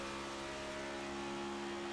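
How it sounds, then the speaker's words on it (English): A race car engine holds a steady, droning tone with small throttle adjustments while the driver keeps it straight on a Texas track during a Pro Cup Series round, continuous and fairly loud throughout. "You hear a little bit of throttle play there in that car, trying to keep that car nice and straight."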